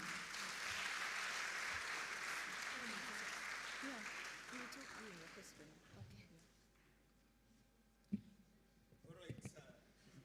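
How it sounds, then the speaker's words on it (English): Audience applause follows a presentation at a national communications conference: a dense, sustained burst of clapping that fades after about six seconds, followed by quiet room noise and a few faint voices. "That hand clap means a lot"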